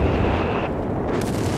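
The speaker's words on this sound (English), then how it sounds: "Here come the Whizbang, dual Whizbang barrages." Rocket artillery barrage of dual Whizbang launchers in Company of Heroes 3, a dense, continuous rumble of loud overlapping blasts and booms that rolls on for the whole moment without a break.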